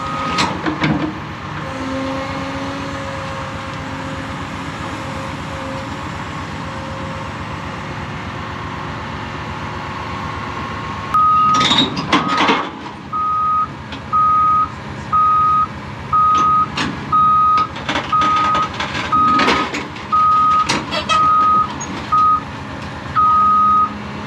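Trucks hauling dirt into a brand-new stadium to build a Monster Jam track: engine rumble and clatter at first, then a loud burst of machinery noise followed by a steady, repeating backup beeper pulsing alongside the idling engines.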